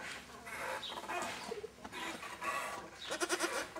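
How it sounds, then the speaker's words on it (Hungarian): A goat bleats several times, with a clear run of bleats near the end, among outdoor farmyard noise while Hungarian voices speak nearby. "Kecske."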